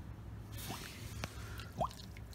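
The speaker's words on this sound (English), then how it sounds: "Alright, so now you wait until it all drains out." Motor oil drips and trickles from the drain of a Chevrolet Camaro during an oil change, a few soft wet drops and squishy splashes against steady background hiss, close and faint.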